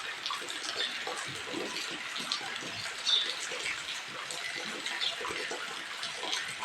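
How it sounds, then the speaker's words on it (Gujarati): Light, slow rain falls on a village courtyard in the evening, a steady soft hiss of drops with no voices, holding at an even moderate level throughout. "6:30 વરસાદ શરૂ છે."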